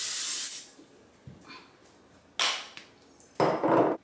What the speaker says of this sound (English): Get a glass container and spray it down with some Pam